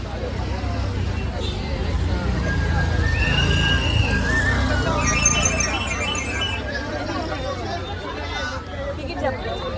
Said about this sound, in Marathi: गर्दी अशी आहे का जत्रा भरल्यासारखी